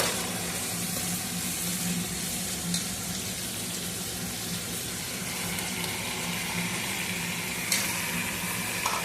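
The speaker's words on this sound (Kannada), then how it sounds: "ಇದು ಫ್ರೈ ಆಗ್ತಿದೆ." Vegetables for a vegetable pulao fry in a pan, giving a steady, continuous sizzle with a faint watery hiss throughout, close and even with only a couple of small clicks and no talking.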